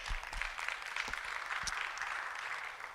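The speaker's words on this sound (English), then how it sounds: "a round of applause for this." Applause from the audience at a women's economic forum and exhibition, a broad, moderately distant round of clapping that carries on evenly, with a few sharper nearby claps early on.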